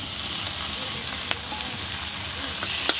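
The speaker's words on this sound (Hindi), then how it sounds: "अच्छा से भूनेंगे।" Potatoes with ginger garlic paste and red chili fry steadily in a pan, giving a loud, dense, continuous sizzle with a couple of brief utensil taps.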